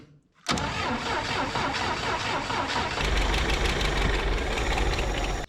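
The engine of a 1967 International Scout cranks and catches after a moment of silence, then runs loud and close with a rough, steady mechanical rattle until it cuts off.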